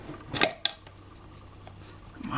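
Scissors snip through paper cut-outs of dress forms, with a couple of quick, crisp close cuts early on and a faint rustle afterward.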